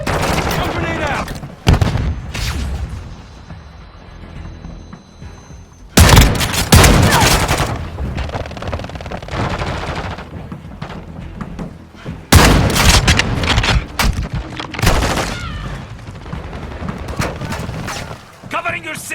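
Gunfire in Warzone Mobile, with heavy bursts of automatic fire and booming shots in clusters, loud and close, over game chatter and shouted voices.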